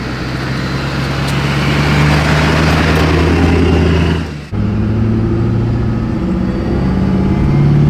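A 1000hp Duramax diesel truck on its first test drive, a loud, steady engine drone with a brief dip as it shifts, then continuing to pull with deep humming tones.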